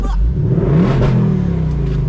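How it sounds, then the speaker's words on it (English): A 2024 Ford Mustang GT engine revs hard at close range, its loud, rising roar swelling and falling back, while a voice speaks briefly over it. "Rev it."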